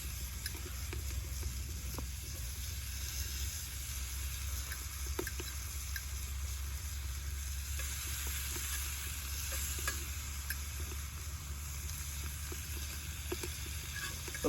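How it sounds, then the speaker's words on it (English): Bacon sizzles steadily in a pan during a power-outage cooking setup, a constant fine crackling hiss with occasional louder pops, close and even throughout with no talking. "This bacon's already sizzling."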